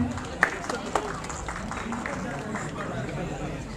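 Audience at a university convocation clapping for a graduate, a scattered, moderate patter of hands with a few sharper claps, mixed with crowd murmur and a voice speaking.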